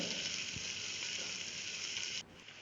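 Sliced onion and two slit green chillies sizzle in a hot pan for a wheat rava kichadi, a steady bright hiss with a faint stirring knock that cuts off sharply near the end.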